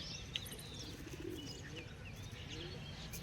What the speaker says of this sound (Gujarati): ને ફાઇનલી કબૂતર જોવો તમે,